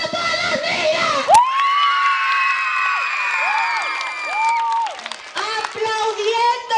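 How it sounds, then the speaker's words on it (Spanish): Children at a school Christmas posada cheer and shout together in a loud, sustained burst, with high whooping voices rising and falling, while adult voices talk over and after it. "¡Aplaudiendo a todas las niñas!"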